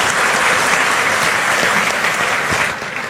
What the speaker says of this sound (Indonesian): kita beri tepuk tangan Bapak